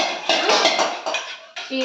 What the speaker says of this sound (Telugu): అరుస్తలేడు, సౌండ్ గిన్నెలది మొత్తం